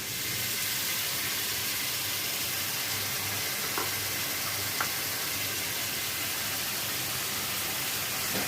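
Ginger, garlic and tomato sautéing in a pan, giving a constant, even sizzle and hiss throughout, with a couple of faint clicks.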